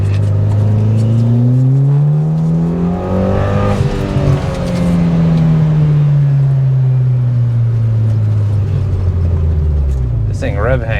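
A Mitsubishi Evo 8 engine revs up and drops back again in long, loud sweeps, hanging on the revs between pulls, with a brief rasp near the end.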